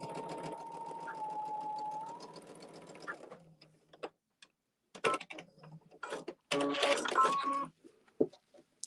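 A sewing machine stitches over a quilt block in a steady run with a high motor whine, then stops and starts in short bursts of stitching with gaps between, close and fairly quiet.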